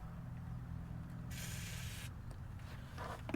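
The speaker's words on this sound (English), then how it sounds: "So I'm gonna throw some WD on these threads" Aerosol WD-40 hisses briefly in one short burst onto bolt threads under a 1949 Studebaker rear end, set against a low mechanical hum in a quiet garage.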